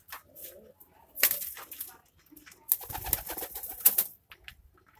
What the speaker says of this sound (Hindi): तो प्योर पंजाबी कबूतर,